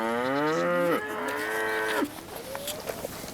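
Cattle on the Mongolian steppe lowing close by, two long, loud moos one after the other, then quieter outdoor background.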